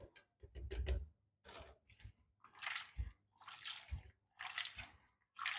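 Beans being rinsed in a pot of water while cooking beans porridge, with close, soft splashing and sloshing in short bursts separated by brief pauses.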